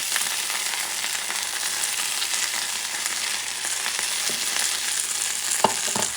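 Toasted Israeli pearl couscous, about 1 1/4 cups, goes into a hot pan and fries with a steady, even sizzle, with a few soft scrapes and stirring clicks near the end.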